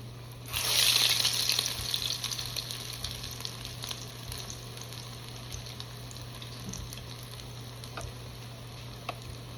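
Potato pancakes frying in a pan of very hot oil, a steady crackling sizzle that flares up loudly at the start and then settles into a softer continuous hiss with scattered pops, close and without talk.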